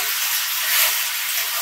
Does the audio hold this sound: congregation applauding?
no